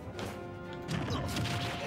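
A Cloud down smash attack lands in Super Smash Bros. for Wii U, a burst of crashing, thwacking game effects that swells midway over busy layered game sound.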